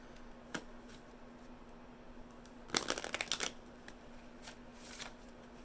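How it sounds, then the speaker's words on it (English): Tarot cards being shuffled by hand, a soft hiss with a few light flicks, then a short dense riffling burst in the middle, close and quiet against a faint background hum. "Let me shuffle these a little bit."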